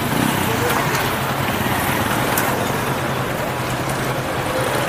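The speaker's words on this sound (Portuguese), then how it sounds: "Atravessar cuidado porque aqui é muita moto, pessoal." Motorcycles and other traffic pass through a busy street market in Leticia, Colombia, making a continuous engine drone and road noise, with people talking nearby throughout.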